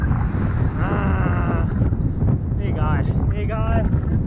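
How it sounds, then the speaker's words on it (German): Strong wind on Mauna Kea buffets and roars across the microphone throughout, with a few brief voiced sounds rising faintly over the rushing noise. "Es ist so verdammt windig heute."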